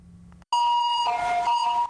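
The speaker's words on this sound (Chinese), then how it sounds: "救护车驶到门口" An ambulance pulls up to a hospital entrance in Taitung, Taiwan, its siren blaring loud and close after a brief pause, wailing in two alternating high tones.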